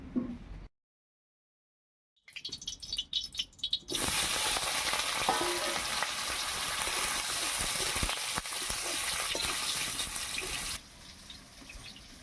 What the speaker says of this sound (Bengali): ইঁচড়গুলো খুব ভালোভাবে ভাজা হয়ে গেছে, লাল লাল করে ভেজে নিয়েছি